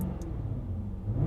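A 2023 Jaguar F-Type R coupe idles or cruises with its exhaust valve open in loud mode, giving a deep, close, steady engine rumble.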